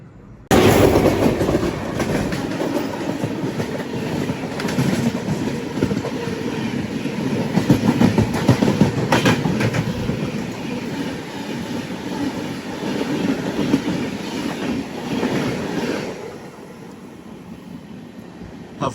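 Cocanada Superfast Express train running on the line near Hafeezpet, a loud continuous rumble of wheels and carriages with clattering and some wheel squeal, easing off and quieter over the last few seconds as it slows.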